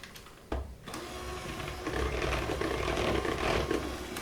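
An electric mixer whirs through limeade icebox pie filling, starting low then climbing to a busy, rattling motor drone that grows louder and continues steadily.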